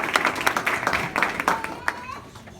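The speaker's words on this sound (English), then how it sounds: "Let's give them a round of applause." Applause at a military promotion ceremony for a first lieutenant: a burst of hand clapping from a seated audience, dense and fairly close at first, then thinning out and fading over a few seconds.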